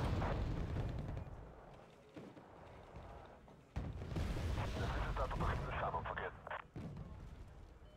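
Mortar artillery fire in Wargame: Red Dragon: repeated booming thumps and blasts, several sharp impacts and rumbling explosions spread over the span, moderately loud with dense battle noise throughout.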